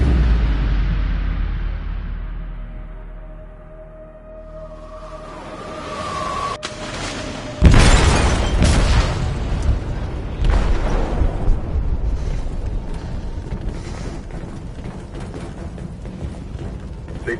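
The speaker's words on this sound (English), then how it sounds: "They detonated an explosive in the hold." An explosive detonated in a ship's hold in a video game: a falling, fading rumble, then a sudden loud boom followed by a long roaring, crackling aftermath of debris and rumble.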